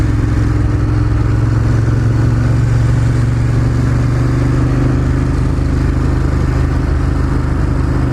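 A Ducati Monster 1200 S V-twin engine drones loud and steady, a dense low rumble with a strong mid-range tone and slight mechanical clatter, running close by with no speech.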